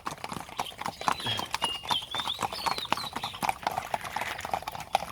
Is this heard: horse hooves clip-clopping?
yes